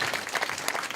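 A brief burst of dense audience applause at a community center opening, a close, lively patter of many hands clapping together.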